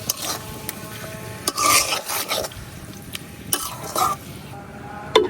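Chopped raw papaya is stirred with spices in a pan for a fish curry, making close scraping and rubbing strokes against the metal in irregular bursts over a faint background hiss.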